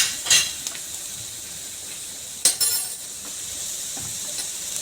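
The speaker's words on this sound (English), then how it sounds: "So to this we are adding curry leaves into it." Curry leaves hitting hot oil with golden-brown onions for a coastal fish curry: a steady sizzle and hiss, broken by a few sharp clinks of a utensil against the pan.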